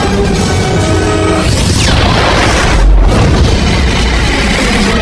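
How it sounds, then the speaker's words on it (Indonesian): The pyramid blows up in the film Alien vs Predator: a huge, loud, rumbling explosion that roars on for several seconds, swelling to a heavy boom partway through. "Ledakan besar itu lalu menghancurkan pangkalan yang tak menyisakan apa-apa termasuk para anakan alien."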